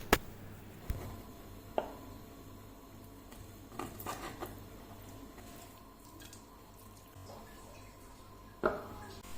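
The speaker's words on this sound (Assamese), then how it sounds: "চিকেনখিনি মই এয়া পাতল পাতলকৈ কাটি ল'লোঁ" Boneless chicken sliced thinly with a knife on a board in a home kitchen, heard as sparse, faint cuts and taps with a few sharper knocks, quiet and intermittent with long gaps and no talking.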